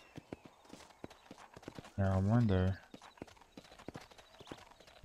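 Horse hoofbeats from Red Dead Redemption, a steady clip-clop of hooves at a trot with a loud whinny in the middle, while someone talks over the sound.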